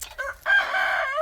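Chickens in a backyard coop on a small farm give a short run of loud, close calls, with one longer drawn-out cry in the middle.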